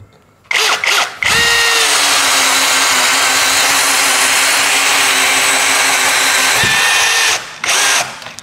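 A DOLIZ BD636 12V brushless cordless drill bores with a 16 mm bit in low speed, torque mode: a loud, steady whine runs for about six seconds after brief starts, then stops and spins up again briefly.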